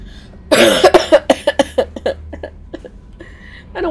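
A run of sharp, close coughs in quick succession, starting loud and tapering into softer, sparser hacks, followed by a brief pause and a faint throat-clearing sound at the end.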